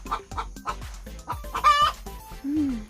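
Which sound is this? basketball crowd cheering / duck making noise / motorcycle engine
duck making noise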